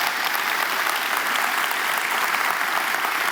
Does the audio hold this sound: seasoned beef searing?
no